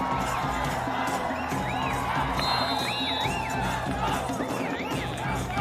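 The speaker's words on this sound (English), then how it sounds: "The crowds are cheering for the team." A large crowd cheers at a sports match during a village games grand finale, with whoops, shouts and excited children's voices swelling into a continuous noisy roar, while a commentator talks over it.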